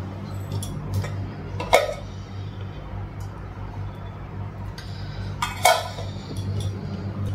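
Dishes being handled, with a few sharp clinks and clatters of metal pots and plates over a low steady hum.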